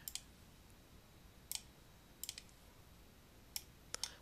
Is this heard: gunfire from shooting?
no